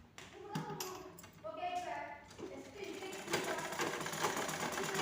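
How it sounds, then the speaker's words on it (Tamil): A sewing machine stitches the pleats of a pattupavadai sleeve, a quick mechanical rattle that runs in short bursts while someone speaks over it. "ஓகே, இப்போ நம்ம ஸ்டிச் பண்ணியாச்சு."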